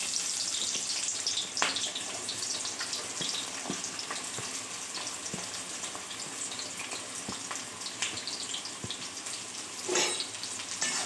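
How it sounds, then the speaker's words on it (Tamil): Chopped onions fry in hot oil with cloves and a piece of cinnamon in a pan for chicken gravy, giving a steady, close sizzle with occasional stirring scrapes and crackles and no talk. "இப்போது நறுக்கி வச்சிருக்கிற வெங்காயத்தை போட்டுக்கலாம்."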